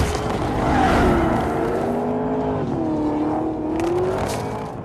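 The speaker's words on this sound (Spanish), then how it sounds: "vamos a seguir identificando ese coche con un depredador con sus rugidos, y que podemos escuchar en cada giro o en cada acelerón" Roaring car engine in a night-time chase sequence from the film I Am Legend, rising and falling with acceleration and turns, close and loud throughout with a faint tire squeal.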